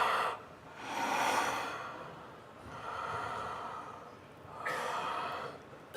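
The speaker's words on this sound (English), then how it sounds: "Take a couple of deep breaths" Slow, deep breaths in a 4-7-8 breathing exercise, three long airy inhales and exhales rising and falling, close and fairly quiet.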